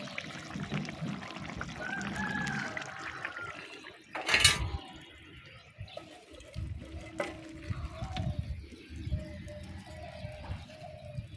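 Cooked fish curry is poured out of the pot in a soft liquid splash with one brief louder burst midway, while birds chirp faintly in the background.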